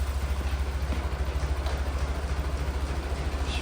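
A 1950 Ford 8N tractor engine with a new exhaust idles steadily after starting, a low, even throbbing pulse heard close and alone without talk.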